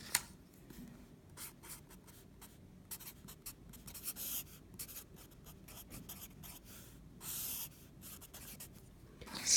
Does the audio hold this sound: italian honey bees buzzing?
no